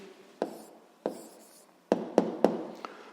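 Pen strokes scratch across paper while a physics exercise answer is written out, a few soft rubs followed by quicker, sharper scrapes, close and fairly quiet with no talk.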